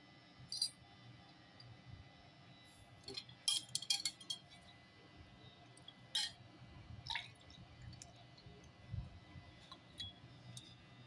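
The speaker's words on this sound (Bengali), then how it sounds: "এই যে দেখা, এখান থেকে জল পড়ে।" Water drips and splashes in scattered bursts onto a Shiva lingam during a bathing ritual, with faint metallic clinks between the drops against a quiet background.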